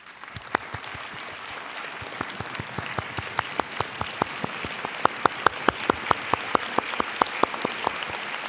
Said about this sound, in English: Perhaps we can rise and give them a round of applause